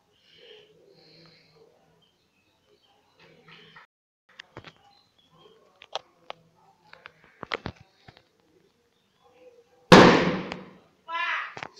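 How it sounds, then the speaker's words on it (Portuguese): A bomb explodes in the video game Minecraft: a sudden loud, close blast near the end, followed by a short hissing rush, after a quiet stretch of faint scattered clicks and soft game sounds. "alguém soltando logo uma bomba aqui"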